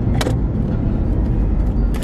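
Car driving along, a steady close low rumble of engine and road noise inside the cabin, with a couple of brief higher clicks over it.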